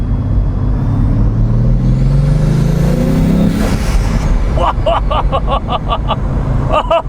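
A Bugatti Veyron Grand Sport pulls hard in second gear on a downhill road, its engine note loud and close, rising in a long sweep before settling into rapid mechanical pulses near the end.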